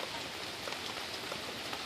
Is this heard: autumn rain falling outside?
yes